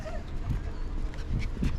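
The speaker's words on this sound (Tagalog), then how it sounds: "ito yung dalawa kong aso" A dog whimpers and yips softly a few times nearby, short high cries over a low rumble of cold, windy outdoor noise in Bakewell, England.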